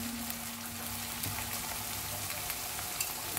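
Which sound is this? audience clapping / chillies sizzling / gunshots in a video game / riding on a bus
chillies sizzling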